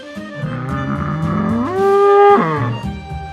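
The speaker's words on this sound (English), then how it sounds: "bull" A bull moos once, a long, loud, close bellow that swells and rises in pitch midway before dropping off.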